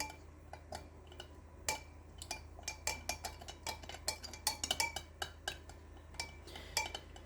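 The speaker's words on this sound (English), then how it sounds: "I'm just going to grab a spoon and I'm going to stir the sugar in" A metal spoon stirring sugar in a bowl, with many light irregular clinks and taps against the sides, close and faint over a quiet hum.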